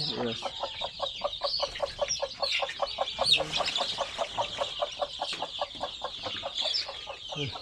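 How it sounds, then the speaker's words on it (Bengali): Desi hens with their chicks cluck in a steady, rapid series of soft pulses that runs throughout, close by on a farm, with faint chirping above. "দেশি মুরগি বাচ্চা নিয়ে আসছে।"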